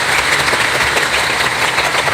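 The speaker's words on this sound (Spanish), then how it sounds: "Un aplauso para el hermano." A crowd applauds a speaker at a gathering where a pastor debates matters of faith, with steady dense clapping that holds throughout at fairly loud level, with no speech over it.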